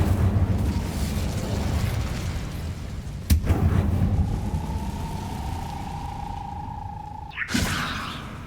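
Incendio fire spell cast in the Hogwarts Legacy video game: a sharp crack bursts out, followed by a sustained whistling tone and then a second whooshing burst of flame, all over a steady rumbling game backdrop.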